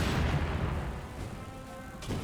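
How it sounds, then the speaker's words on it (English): Mortar shell striking a slit trench in the Company of Heroes 2 strategy game: a dull, rumbling blast that fills the clip, decaying into a low roll with a second thud near the end. "But the Slitch Trench is getting hit by a mortar."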